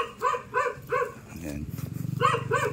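A dog barks repeatedly outside a house, sharp yaps in a steady rhythm that break off briefly, close and clear, while people talk over and between the barks.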